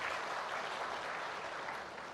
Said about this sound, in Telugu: అందరూ గట్టిగా చప్పట్లు కొట్టమని కోరుతున్నా